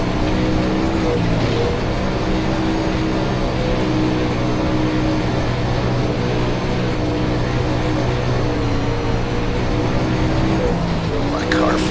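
A dirt late model race car engine at Knoxville Raceway in the iRacing sim drones steadily throughout, a continuous mid-loud roar with people talking over it.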